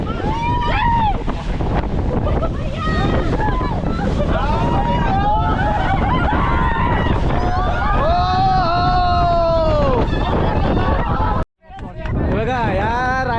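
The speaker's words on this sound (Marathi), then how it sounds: "तिकडनं आहे ना एक जेस्की आहे ना ती जेस्कीने बोट आपली ओढतोय" Out at sea off Diveagar beach, a jet ski tows a dragon ride boat while heavy wind buffets the microphone and waves wash past, with people shouting and talking throughout.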